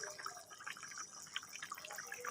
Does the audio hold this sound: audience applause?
no